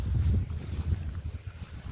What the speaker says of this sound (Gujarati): હાવ ઠંડો પવન ઠળી ગયો